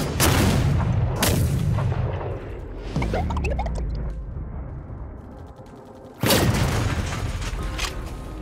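A volley of gunfire in a Chinese sniper action film: several loud, booming shots in quick succession, each with a long, heavy ringing tail, and a final sharp blast after a brief lull.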